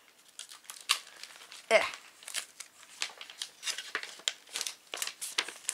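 Sticky tape being pulled, torn and crinkled while wrapping a Christmas gift, with a rapid series of close, crackly bursts and one sharp rip, under a brief voice.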